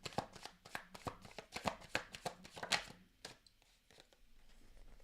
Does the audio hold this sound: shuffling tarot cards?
yes